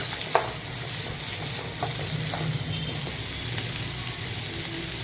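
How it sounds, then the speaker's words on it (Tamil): Sliced large onions and curry leaves sautéing in oil in a pan for a spicy paniyaram chutney, a steady broad sizzle with a sharp clink of a spoon early on and soft stirring scrapes underneath. "வெங்காயம், பெரிய வெங்காயம், ஒரு பெரிய வெங்காயம் எடுத்திருக்கேன், கருவேப்பிலை நான் போட்டு நல்லா வதக்கலாம்."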